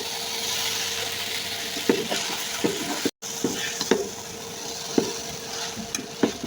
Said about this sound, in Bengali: নুডলসটা ভালোভাবে নাড়াচাড়া করে নেব,